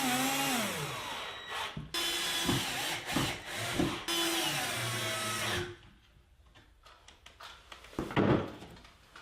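Power driver sinking screws into a plywood dresser carcass held square with 90-degree blocks, two long loud whirring bursts with pitch sweeps and short pauses, then quieter scattered knocks and handling clatter.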